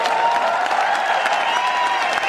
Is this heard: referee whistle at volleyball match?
no